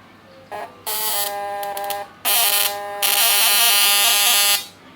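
A modified MOSFET fish shocker built with platinum electrodes discharging in loud bursts of harsh electrical buzzing, several seconds long with brief gaps between, close and without speech.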